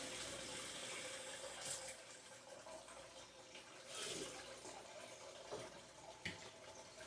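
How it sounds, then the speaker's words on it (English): A container for apple juice being made into apple pie moonshine is rinsed out with running tap water, a steady splashing flow with a few louder sloshes, heard close and alone. "Now, I'm going to rinse this back out and test that again since sugars are in."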